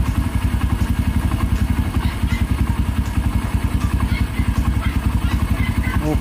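A Kawasaki Barako motorcycle single-cylinder engine idles steadily after a clutch housing rebushing, a loud, close, even chugging beat with faint mechanical clatter throughout.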